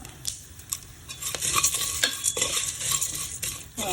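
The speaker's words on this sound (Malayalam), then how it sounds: "ഒരു ബ്രൗൺ കളറാകണം വരെ ഒന്ന് ഇളക്കി കൊടുക്കും" Ingredients frying in a pan for a pressure-cooker ada pradhaman are stirred until brown, a close, busy sizzle broken by repeated scraping and clinking of the spoon against the pan.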